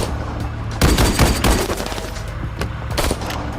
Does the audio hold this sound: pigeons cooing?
no